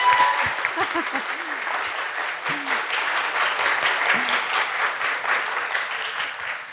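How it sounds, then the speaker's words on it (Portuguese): Steady applause from a talent-show audience at a youth gathering, dense clapping filling the room for several seconds with a few faint voices mixed underneath. "Muito bem, salva de palmas."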